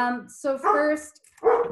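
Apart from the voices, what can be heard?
dog barking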